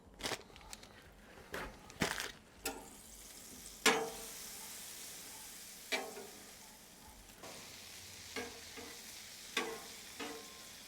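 A whole stick of butter sizzling on a Blackstone griddle, a soft steady fry noise with occasional sharp scrapes and taps of a spatula, fairly faint and close.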